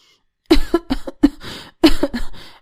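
An older woman has a close, loud fit of coughing: several harsh, rasping coughs in quick bursts, with brief pauses between them.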